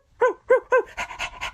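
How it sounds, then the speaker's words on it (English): A small dog pants in quick, close bursts: three sharp breaths, then faster, lighter panting, with no one talking over it. "And my little doggy Fufu is pleased too, aren't you, dear?"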